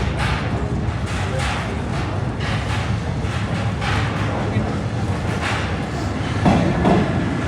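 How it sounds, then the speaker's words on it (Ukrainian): An old Paris metro train rumbles and clatters underground, a continuous loud roar with rhythmic knocks and screeching, while voices talk faintly over it. "таке ось тут метро"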